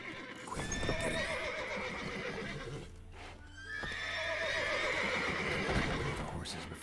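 Horses neighing and stamping hooves in the video game Witcher 3, loud whinnies in two bursts with clip-clopping between, close and prominent, while voices speak over part of it.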